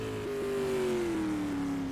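A sprint car at Oswego Speedway spins under braking, its engine note sliding steadily downward in a loud, continuous drone as it slows, with other engine noise behind it.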